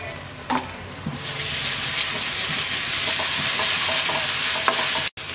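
Ginger garlic paste hits lightly browned onions frying in a pan for hilsa fish dopeyaja, raising a steady broad sizzle with occasional stirring knocks and scrapes close by.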